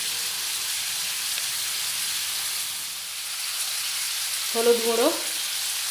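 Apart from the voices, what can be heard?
potatoes frying in hot oil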